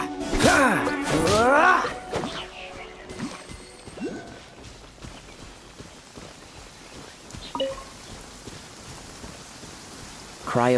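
Rain in Genshin Impact, a steady hiss of falling drops under sharp bursts of combat effects and a character's voice at the start, with occasional thuds throughout.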